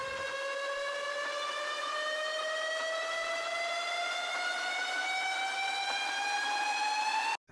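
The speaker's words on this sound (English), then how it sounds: "And the riser, noisy at the end." A noisy riser in a music composition, a long harmonic siren-like tone gliding slowly upward for several seconds, loud and sustained, then cutting off abruptly at the end.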